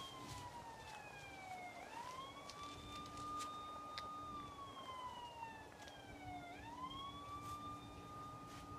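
A siren played for a dog rises and falls in two long wailing cycles, loud and unbroken, with a faint steady hum beneath and no talking.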